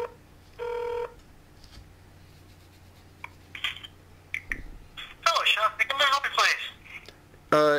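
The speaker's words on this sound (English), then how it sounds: "calling Sean Jones, District Court Administrator" A phone call being placed: a short dial tone, then a burst of rapid dialing beeps, followed by ringback tones, heard close over a quiet line.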